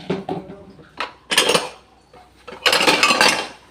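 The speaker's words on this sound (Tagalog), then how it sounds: "Kaya maglilinis ako dito, magliligpit ako ng mga plato." Plates and dishes are cleared in a home kitchen, with a few sharp clinks and clattering bursts of crockery close by, separated by short quiet gaps.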